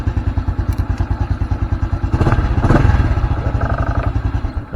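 A Honda underbone motorcycle is cranked on its starter dynamo, giving a close, rapid, regular chugging pulse that swells briefly midway and runs without talk.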